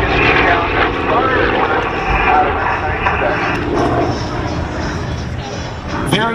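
An FG-1D Corsair propeller fighter with a nearly 2,000-horsepower engine flies at an air show, a loud sustained piston-engine roar with shifting pitch as it passes, under a voice briefly talking over a loudspeaker.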